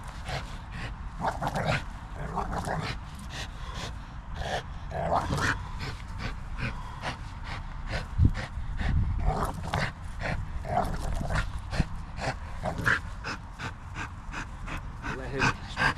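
A reactive, dog-aggressive pit bull barks and whimpers with panting and yips, nearly nonstop and close by, while a trainer speaks intermittently over the commotion.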